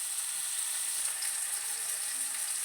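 A tomato sautéing in a pan for a mutton kuzhambu makes a continuous bright hiss of frying oil, steady and close, with no other sounds.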